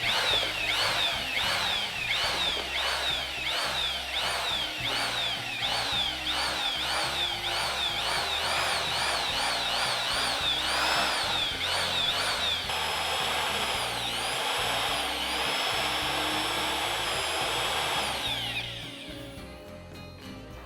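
A drill mixer churns Portland cement catalyst in a bucket, giving a loud, continuous whirring drill drone with rhythmic surging pitch for about eighteen seconds before the motor winds down near the end.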